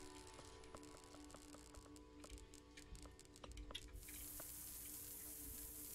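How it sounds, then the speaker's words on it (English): Water sprays steadily in FAR: Lone Sails, turning into a loud, constant broadband hiss partway through, after a stretch of faint dripping and clicking over a low hum. "Stop spraying water all over my damn base."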